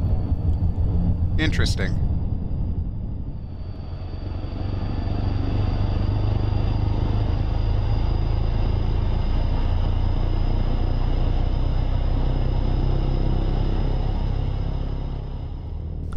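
A propeller aircraft engine in X-Plane 11 starts and settles into a loud, steady, low droning rumble that keeps going throughout, with a brief click early on and someone speaking a single word.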